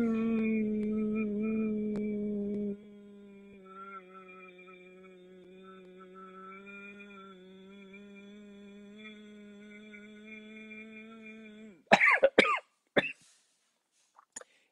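Ujjayi pranayama breathing with a tightened larynx, a rough rasping breath that turns into a long strained hum, then a burst of several sharp coughs, close and loud.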